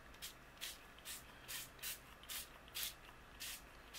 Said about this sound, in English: I'm going to go ahead and add some spray